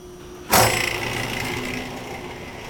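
A small 2 horsepower electric motor switches on with a sudden loud thump and click, then settles into a steady whirring hum that slowly eases in level, heard close up with no talking.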